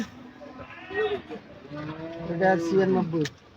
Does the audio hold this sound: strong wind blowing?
no